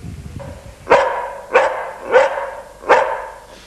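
Rescued greyhounds bark at a rescue kennel in Mullinahone, Tipperary, with four loud, close barks spaced roughly half a second apart and no talking.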